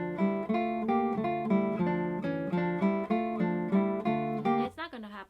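Classical guitar playing a Fernando Sor etude in repeated plucked chords with a steady rhythm, the index finger striking slightly ahead so each chord sounds a bit smeared, close and clear, ending in a brief scrape of strings.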